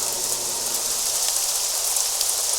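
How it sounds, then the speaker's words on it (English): Steady rain downpour in the video game Craft The World, an even, close hiss of falling water that stays constant throughout, with no voices heard. "it's a nice little downpour, too"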